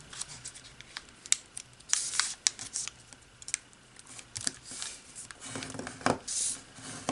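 Paper creases and crinkles in close, quiet bursts as an origami model is folded, with scattered sharp crisp snaps and soft rustles spread irregularly across the stretch.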